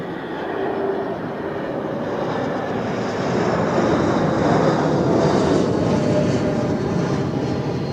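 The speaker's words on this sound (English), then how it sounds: "So, more Swiss short-haul flights coming in now." A Swiss short-haul jet arriving at Zurich Airport, its broad engine roar loud and sustained, swelling slightly toward the middle and holding steady to the end, with no voices.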